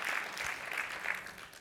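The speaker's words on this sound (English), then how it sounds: "give yourselves a round of applause for being here" Audience at a summit in Los Angeles applauding together, a steady wash of clapping that holds for the whole stretch and tapers slightly at the end, with no voices over it.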